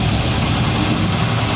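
A Plymouth Barracuda engine runs steadily on its first drive, a loud, low continuous rumble close by with no pauses.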